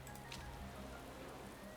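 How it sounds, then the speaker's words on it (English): Rain falls during practice for the Russian Grand Prix in the Motorsport Manager racing game, a steady, soft hiss of drops spread evenly across the clip with no pauses or voices. "It's initially raining for practice, and it's just gonna get wetter."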